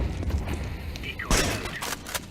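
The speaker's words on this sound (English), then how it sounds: "Throwing flashbang." In a video game, a flashbang grenade is thrown and goes off with a sharp, loud burst partway through, amid scattered clanks and game noises. A voice speaks over it.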